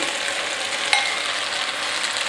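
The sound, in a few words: beef mince frying and stirred with wooden spoon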